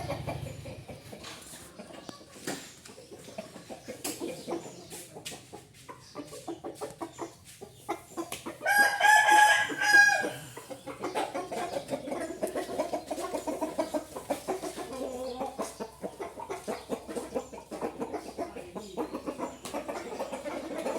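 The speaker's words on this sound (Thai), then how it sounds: "ขันดีจริงๆตัวนี้ เอาขันโชว์หน่อยเร็ว" A prized Thai fighting rooster crows once, loud and close, in a short burst that stands out over ongoing outdoor clucking and background chatter, while people talk on and off around it.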